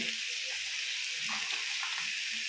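Roasted gram and spices sizzling in a pan on a low flame for mutton sambar, a steady close hiss with soft stirring scrapes now and then.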